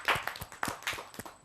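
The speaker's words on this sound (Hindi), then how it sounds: "जरा जोरदार ताली के साथ" Scattered hand clapping from a small audience at a Hindi poetry gathering, a handful of sharp claps spread over a brief moment with no voices.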